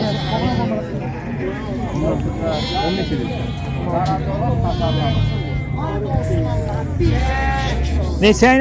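Sheep bleat over and over at a busy livestock market in Beylagan, their calls overlapping with steady crowd chatter and nearby voices of people talking throughout.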